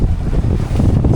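Strong wind and rough sea waves around a small fishing boat holding position offshore, a loud steady rush of wind buffeting the microphone over churning water, with no talk.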